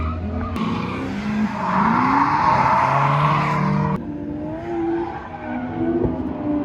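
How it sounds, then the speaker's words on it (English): A Nissan S15 drifting nearby at a drift event in Poland, its engine revving and rising in pitch while the tires squeal and skid, loud and continuous with a sharp shift partway. "So we're gonna sit here and watch some drifting."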